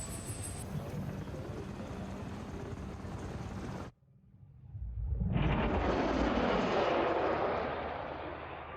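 Army helicopter from the film Arrival arriving outside a house: a loud, broad whooshing rotor and engine roar swells up after a brief near-silent gap, following an earlier steady, loud rumbling stretch that cuts off abruptly.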